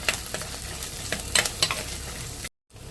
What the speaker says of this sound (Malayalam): വെളുത്തുള്ളി ചതക്കുക കേട്ടോ വെളിച്ചെണ്ണ ഇട്ടിട്ട് ഒക്കെ വഴറ്റിയെടുക്കാം